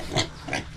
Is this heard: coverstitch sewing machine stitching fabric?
no